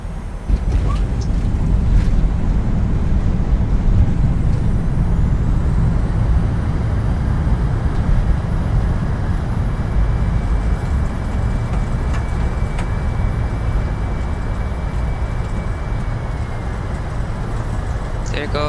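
Thrust reversers on a PMDG 737NG landing in a flight simulator, a loud, steady broadband jet roar sustained throughout with a faint high whine, slowly easing toward the end.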